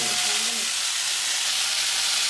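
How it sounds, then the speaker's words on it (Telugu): Green chillies, cashews, onion, tomato, curry leaves and ginger fry together in hot oil for a black chana gravy curry, giving a continuous, loud, even sizzling hiss with a faint voice-like hum at the start. "ఇవైతే జస్ట్ ఫ్రై చేస్తున్నాము."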